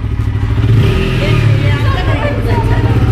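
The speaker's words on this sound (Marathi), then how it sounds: "जरा रेस कर" New TVS Apache 160 4V motorcycle, a special edition model, idling and revving nearby with a steady low engine drone, while people talk over it.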